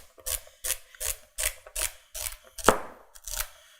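A Chinese cleaver chopping food on a board, eight or nine crisp, evenly spaced strikes in steady rhythm, close and clear with no talking.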